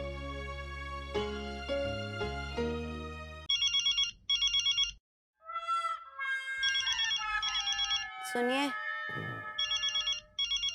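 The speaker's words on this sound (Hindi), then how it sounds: "फोन बज रहा है, उठाइए ना" A telephone ringtone chirps in short repeated electronic bursts in a Taarak Mehta Ka Ooltah Chashmah home scene, following a stretch of music and alternating with people talking.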